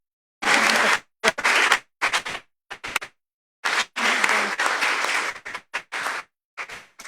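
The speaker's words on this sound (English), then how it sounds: "let's give them another round of applause" Panel audience applauding in repeated bursts separated by brief silences, loud and close, with no talk over it.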